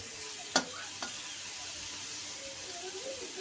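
Snake gourd pieces fry in a pan with a faint, steady sizzle, broken by a couple of sharp clinks near the start. No one speaks.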